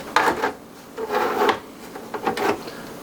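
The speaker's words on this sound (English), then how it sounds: "Now we can go ahead and put the cover back on." A plastic NVR (network video recorder) cover being fitted back onto the unit, giving a few close scraping and sliding clunks in short bursts, with no talking.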